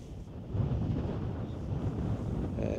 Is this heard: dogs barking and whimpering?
no